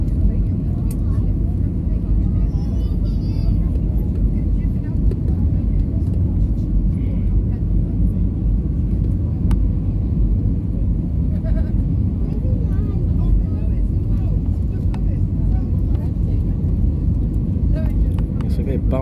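Passenger jet coming in to land at Las Palmas airport on Gran Canaria, a loud steady cabin roar of engines and airflow throughout, with a voice talking over it now and then.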